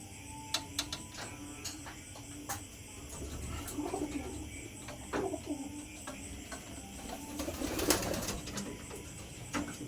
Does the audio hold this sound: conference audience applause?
no